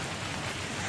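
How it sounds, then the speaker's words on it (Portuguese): Heavy rain pours steadily in a flooded home area where water has come inside, a dense, continuous hiss that stays close and even throughout, with no voices. "É muita chuva"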